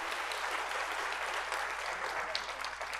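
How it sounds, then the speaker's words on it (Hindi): A crowd at a Bundeli Samagam gathering in Bundelkhand claps loudly and continuously, a thick wash of hands that stays strong throughout the short stretch. "एक बार जोरदार ताली बजाइए सचिन भाई के लिए"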